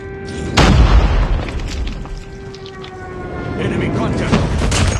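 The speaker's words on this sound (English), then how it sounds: "Friendly airstrike incoming." A friendly airstrike explodes in the mobile shooter Call of Duty Mobile: one heavy boom lands about half a second in, then a rumbling, noisy battlefield wash carries on, with steady whining tones and a faint siren-like drone running through.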